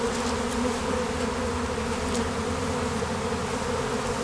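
A honey bee swarm settled on a tree drones in a dense, steady buzz that stays loud and continuous throughout, with no voices.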